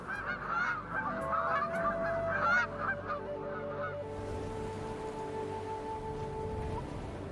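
Aleutian Canada geese honk repeatedly in a noisy flurry of calls, fairly close, over a low steady hum in Alaska, then the calls stop and only a faint background drone remains.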